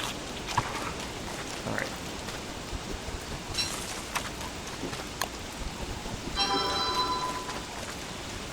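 Rain falling in the game Don't Starve Together, a steady hiss of patter with scattered drip and tapping sounds. Brief chiming tones ring out near the end, and a voice briefly speaks.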